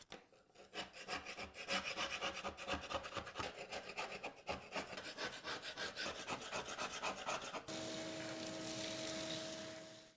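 A putty knife or chisel scrapes tile adhesive off a floor in quick, repeated rasping strokes, close and fairly loud, ending in a longer, smoother continuous scrape.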